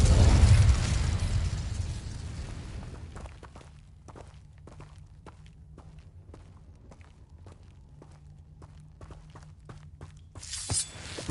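The Incendio fire spell is cast in Hogwarts Legacy with a loud whooshing burst at the start, then a steady run of footsteps and a second brief flare near the end.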